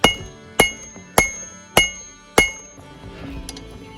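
A hammer strikes a forged steel knife blade on an anvil five times in an even rhythm, each blow a sharp bright metallic ring that decays quickly, close and loud, followed by quieter clinks.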